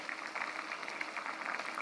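A pot of spicy soondubu stew bubbles on the stove, a continuous soft boiling hiss with fine popping bubbles, close and steady with no talking.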